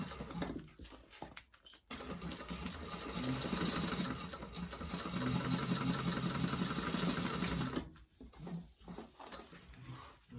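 A sewing machine runs back and forth in a continuous whirring burst lasting several seconds while back-stitching a backpack seam, with short stop-start bursts before and after.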